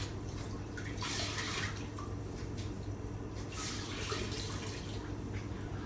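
A string mop is wrung out over a bucket of water during hardwood floor cleaning. Water splashes and trickles back into the bucket in a few separate bursts over a steady low background hum.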